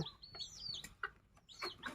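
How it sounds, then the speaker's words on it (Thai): A bantam chicken clucks and crows nearby in a series of short, quiet, rising calls with brief pauses between them, heard alone without talk. "ไก่ตัวนี้สวยมากค่ะ"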